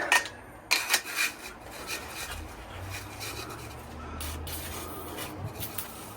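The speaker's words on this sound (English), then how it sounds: "This is a 220 grit, so it's supposed to only remove the glaze." 220-grit abrasive works the cylinder of a 2015 Kia Soul 2.0 G4NA engine during a rebuild, removing glaze with a few sharp scraping strokes followed by a steady, low rubbing drone.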